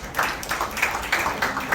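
An audience applauds at a song and label launch event, with a short burst of clapping that pulses in a quick, rhythmic pattern.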